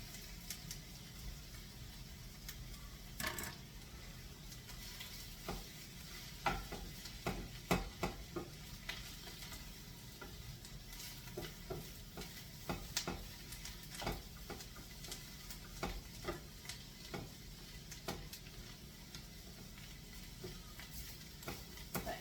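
Spinach cooks in a pan with a faint, steady sizzle, punctuated by soft scraping and clicking as it is stirred, quiet and close without talk.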